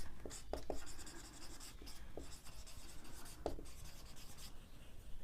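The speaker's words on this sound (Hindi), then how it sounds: "अच्छा, तो ये हम यहाँ पे लिख लेंगे" A pen or chalk scratches across a board as a maths solution is written out, a soft continuous scraping broken by a few sharper taps and strokes, close by and with no talking.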